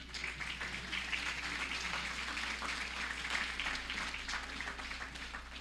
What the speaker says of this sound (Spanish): Les pido un fuerte aplauso para el doctor Osvaldo Telli.